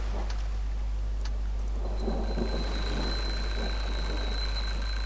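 An alarm clock rings in the point-and-click video game The Dream Machine, a steady electronic tone that starts partway through and holds over a constant low hum and background noise, with no talk.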